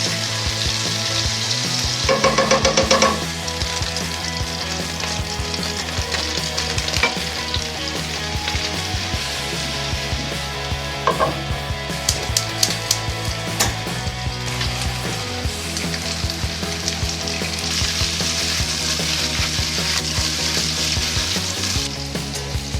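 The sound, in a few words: meatballs frying in butter in a frying pan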